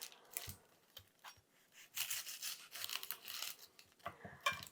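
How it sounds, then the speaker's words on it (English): A knife cuts off both ends of an onion on a cutting board, producing quiet, short scraping and slicing strokes in irregular bursts. "We're gonna cut off both ends"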